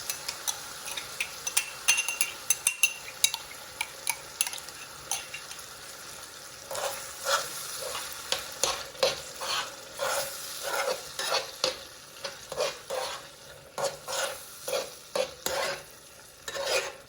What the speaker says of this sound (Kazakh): Сливкімізді қосып, жақсылап араластырамыз.